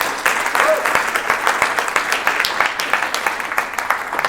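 An audience applauds after a round of thanks at a bakery history event, dense sustained clapping from a crowd filling the whole stretch, with faint voices underneath.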